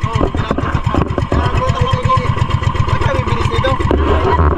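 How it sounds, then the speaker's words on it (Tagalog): A triple-engine boat near Mustala Island gives a close, steady chugging putter with a quick, regular pulse that runs throughout at a strong level. "So ang bangka na gamit natin guys ay double engine yan yun. Yan. Triple engine to."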